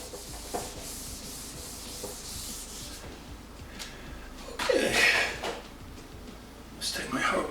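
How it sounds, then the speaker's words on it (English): Fine 800-grit sandpaper rubs over a motorcycle fuel tank in scratchy, irregular strokes, with a louder burst of sanding midway, while a person talks over it. "We're prepping the tank with 800 grit because it was the first thing I found."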